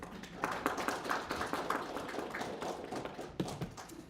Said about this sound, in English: He deserves a round of applause for sure.